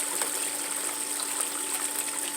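Water runs steadily through a multi-sluice used for gold prospecting, a soft, even hiss and trickle heard fairly faintly and alone, with no voices.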